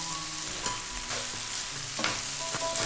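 Turmeric noodles with pork offal and chives stir-fried in a hot pan, a steady loud sizzle broken by repeated scraping and tossing strokes of the utensil, close up with no voices.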